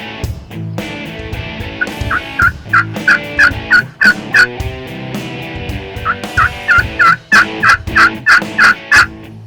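A bunch of wild turkey jakes gobble in the spring woods, loud, close and repeated, rapid rattling calls overlapping in bursts, with brief pauses between rounds.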